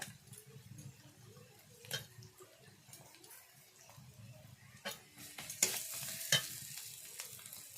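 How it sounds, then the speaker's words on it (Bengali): Spices and ginger paste are fried for a village-style chicken curry, with a quiet sizzle broken by scattered, louder scrapes and stirs in the pan. "ভালো করে মশলা আমি কষিয়ে নেব ওর মধ্যে দিয়ে দেবো আদা বাটা"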